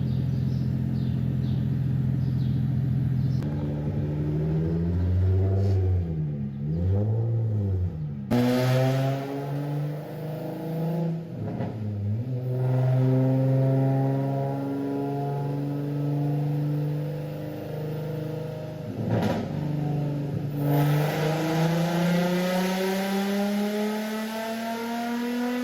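Nitrous-equipped Nissan 350Z drift car engine revving hard on a dyno, with loud sustained engine pulls, rising and falling pitch sweeps and brief lifts between pulls, close and alone throughout.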